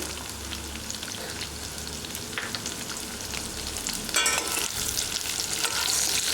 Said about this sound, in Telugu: ఈ ఉల్లిపాయలతో పాటే ములక్కడ ముక్కలు కూడా వేసుకొని ఆయిల్లో కాసేపు ఫ్రై అవ్వనివ్వాలి